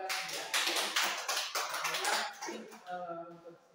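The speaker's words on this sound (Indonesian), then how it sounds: "Berikan tepuk tangan kepada Cynthia" A classroom of students claps for a classmate named Cynthia, a few seconds of scattered, fairly close hand claps with a teacher's voice speaking over the end.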